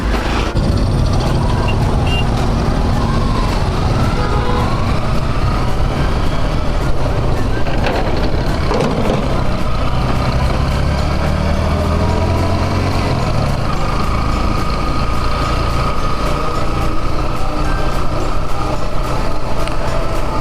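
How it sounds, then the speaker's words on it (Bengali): Trucks and other vehicles roll off a small river ferry, producing a loud, constant rumble of engines and road noise close by, with voices faintly mixed into the din. "ফেরি এপারে চলে আসছে সব গাড়িগুলো নামতেছে"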